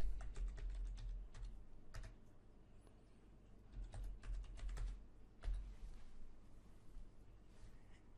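Typing on a computer keyboard while entering a login password: a steady run of light, quick key clicks with a few louder taps, close by, with no talking.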